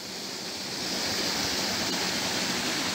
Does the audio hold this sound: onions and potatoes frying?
no